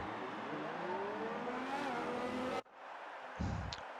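Race cars at Interlagos in a racing video game move off on the formation lap, engines revving and climbing in pitch close by, then an abrupt cut to a quieter rumble with a brief louder burst.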